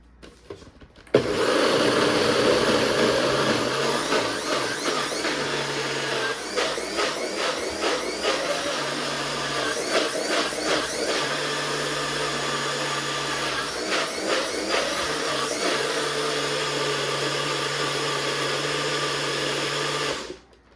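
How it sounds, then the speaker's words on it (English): A kitchen blender whirs through a cottage cheese wrap mixture with salt and powdered almond flour. The motor drones loud and steady for almost twenty seconds, with slight pulsing shifts in pitch and load and no talking. "time to put it in the blender"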